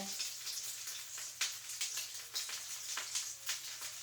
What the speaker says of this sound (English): But you can hear it sizzling.